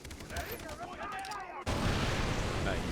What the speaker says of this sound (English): I'm just gonna throw a grenade at these guys